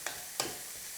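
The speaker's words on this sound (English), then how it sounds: "Going to now go in with my ginger and the red chilies." Ginger and red chilies hitting hot oil with onions in a pan for Sri Lankan black pork curry: two quick sharp crackles over a constant soft sizzle.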